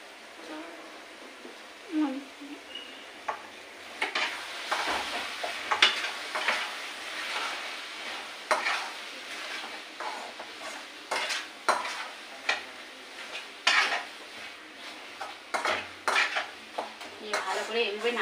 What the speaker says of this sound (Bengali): ভালো করে এভাবে নাড়া দিতে হবে, বারবার নাড়তে হবে।